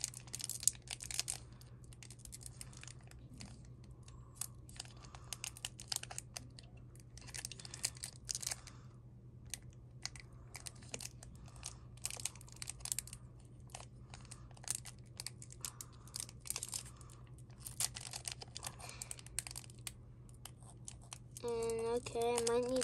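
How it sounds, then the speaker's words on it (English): Crinkling, tearing foil of a trading card booster pack being opened by hand, close and fairly quiet, in small irregular bursts over a steady low hum, with a sharper crinkle near the end. "let me just open this pack."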